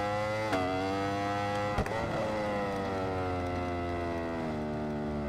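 An Aprilia V4 motorcycle engine in the video game RIDE 4 revs loudly and steadily, its pitch dipping sharply twice as the bike shifts, then climbing and holding as it accelerates.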